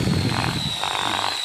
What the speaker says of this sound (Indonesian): Di sini ketika kita bor, dia nggak ada perincikan api ya.